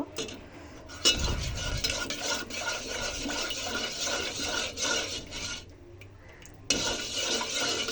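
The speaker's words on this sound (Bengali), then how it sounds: "এবার এটাকে নাড়তে হবে" A spoon scrapes and stirs white sauce of milk, onion and soybean oil in a metal pan, steady close rasping strokes with light clinks, pausing briefly near the end before resuming.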